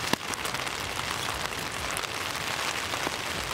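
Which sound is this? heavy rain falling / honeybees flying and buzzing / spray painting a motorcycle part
heavy rain falling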